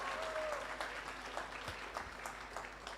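Audience applause at a journalism talk on the portrayal of animals in media, a dense, steady patter of many hands clapping together throughout, fairly distant and even in level.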